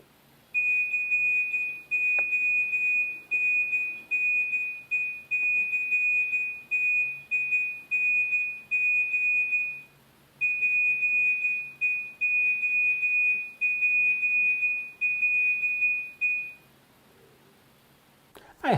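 Retro Nokia brick phone Ascending ringtone carrying a Morse-code message: a steady, high electronic tone sounding in a long run of rapid short and long beeps, one brief pause midway, then silence near the end.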